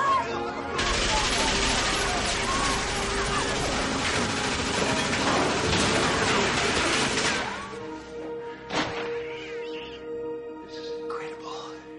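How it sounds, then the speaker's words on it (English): A Tommy gun fires in a long, loud, rapid burst in a movie scene, then stops, leaving a short crash and quieter background sound afterward. "A Tommy gun!"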